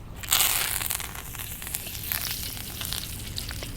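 Fresh curry leaves hit hot oil with cardamom and dried red chili in a pan over a wood fire, a loud burst of crackling sizzle that settles into steady spitting and frying, close up with no talking.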